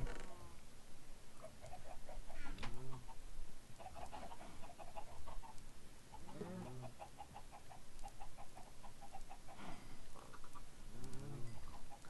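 Synthetic Minecraft chickens cluck in short repeated bursts over a steady background tone, with occasional faint speech-like sounds; the clucks come and go throughout.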